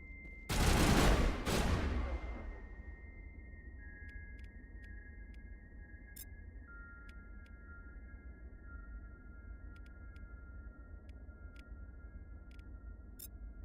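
Gunfire in the video game Mass Effect: a loud, dense burst of shots at the start fades quickly, leaving quiet electronic beeping tones and sparse ticks.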